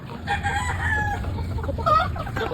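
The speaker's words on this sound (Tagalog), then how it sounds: "si Kindness, pinakauna nating manok na naglugon." Gamefowl roosters on a breeding farm crow and cluck close by, with overlapping calls and a louder strained crow near the end.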